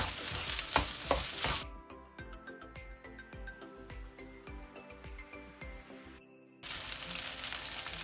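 Egg fried rice sizzles loudly in a hot pan, fades into quieter stir-frying with scattered clinks and scrapes of the spatula, then the strong sizzle returns abruptly near the end.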